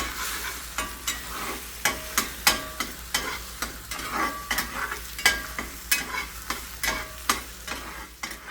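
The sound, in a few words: scrambling four eggs in a pan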